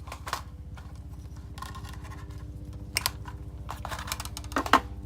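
A knife blade cuts a short piece off a length of wire during a toughness test of K390, Cruwear and S110V steels. A few sharp, separate snips and clicks sound close by over a steady low hum.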